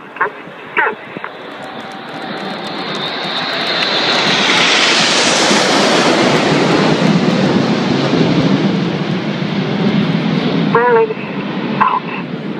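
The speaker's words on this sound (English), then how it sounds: "Coming in from your left-hand side, celebrating 70 years since the Dambusters, this is Lancaster." An Avro Lancaster bomber sweeps past at an air display, its piston engines swelling from a distant drone into a loud, broad roar that holds steady overhead and then trails off, while a commentator speaks over a public address and the crowd chatters.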